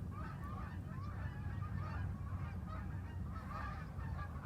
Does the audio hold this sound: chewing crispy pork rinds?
no